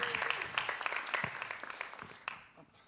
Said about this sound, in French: faites-lui applaudissez-le parce qu'il est un peu stressé